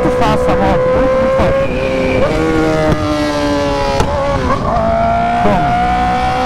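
A motorcycle revs hard and accelerates uphill on a city street, its engine note rising and shifting through gears loudly and continuously, with the rider talking over it.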